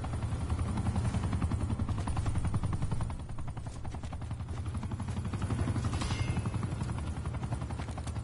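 Helicopter rotor thumping steadily up close in Call of Duty Blackout, a continuous loud chop running the whole time with bursts of gunfire mixed in.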